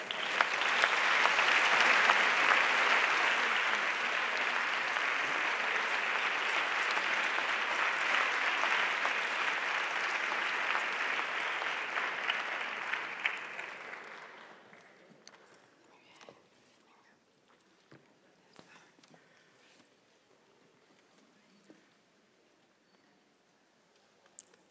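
An audience applauds award winners at the Populares Nueva Alcarria gala, a strong sustained ovation for about fourteen seconds that fades into scattered claps and a quiet room.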